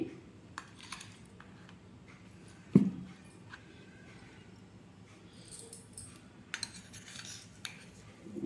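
A utensil stirs chili powder, fenugreek powder and mustard powder into salted dabakai citrus pickle. The clinks and scrapes are quiet and sparse, with one sharper knock near the start and light tapping later, over a low background hum.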